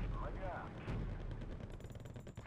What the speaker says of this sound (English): artillery should be doing a lot of damage right there